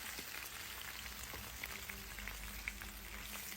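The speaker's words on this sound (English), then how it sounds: "Stir fry that." Vegetables stir-frying in hot oil for Jamaican shrimp chow mein, a steady dense sizzle and crackle with occasional faint pops, close but quiet, no talking.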